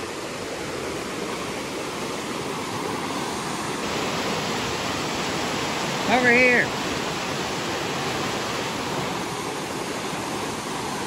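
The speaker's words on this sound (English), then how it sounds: "Another view of the waterfall." Constant broadband rush of falling water from a waterfall at Big Spring, Missouri, steady and enveloping, with a brief shouted voice cutting through midway.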